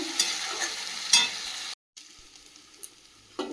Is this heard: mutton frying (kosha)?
yes